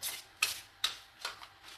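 Several quick, crisp riffling bursts of tarot cards being shuffled, evenly spaced with short pauses between, close and fairly quiet.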